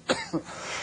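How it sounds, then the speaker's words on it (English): Two short, faint coughs from a person, a sharp first burst followed by a softer second one, then quiet room tone. "A cough that has lasted as long as yours has needs to be seen by a doctor right away."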